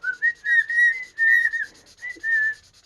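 A person whistles a short melody up close, several sustained clear notes with brief pauses between phrases.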